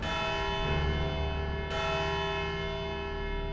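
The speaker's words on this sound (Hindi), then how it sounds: "घंटी बज गई।" A courtroom bell rings twice in close succession, each strike a loud, resonant metallic clang that hangs on and decays slowly.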